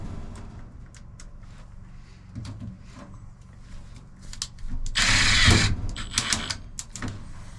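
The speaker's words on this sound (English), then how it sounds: "now I'll put the 4 screws in" Self-tapping sheet metal screws being driven with a power drill into a Duravent fireplace chimney pipe, a short buzzing whir of the drill with mechanical rattles and clicks, fairly close and loud, with no talking.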